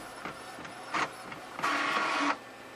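A home printer runs a page sent from an iPad app, with short mechanical whirs and clicks followed by a steady, louder feed-and-print stretch of about a second. The sound is close and clear, with no talking over it.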